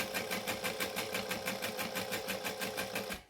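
A misbehaving sewing machine stitches a Christmas tree skirt in a fast, even run of rapid stitch pulses, loud and close, then stops abruptly near the end.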